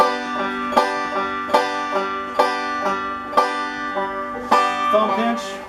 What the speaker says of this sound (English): I'm taking the 3 fingers and jumping on the last 3 strings and hitting them simultaneously